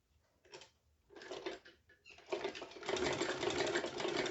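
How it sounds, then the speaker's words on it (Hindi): A sewing machine runs in short bursts while double-stitching an umbrella frock, starting with brief stuttering runs and then settling into a steady, close, continuous whirr. "यहाँ पे हमें स्टिचिंग करनी है, तो डबल सिलाई करनी होगी हमें।"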